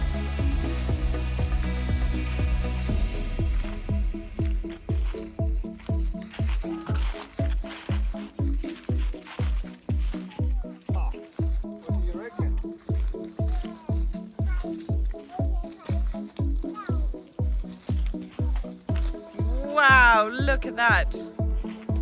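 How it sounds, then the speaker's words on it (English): Water from an overflow pipe at a tiny home build on a Portugal farm renovation, pouring out in rhythmic gurgling surges at a regular pulse, with people talking over it. "So this is our overflow. Pouring out."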